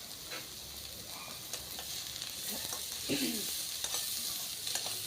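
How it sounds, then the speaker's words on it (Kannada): Capsicum palya fries in a pan, a steady close sizzle broken by repeated scraping stirs of a spatula against the metal, with no one talking. "ಚೆನ್ನಾಗಿ ಫ್ರೈ ಆಗ್ತಾಯಿದೆ ಇವಾಗ"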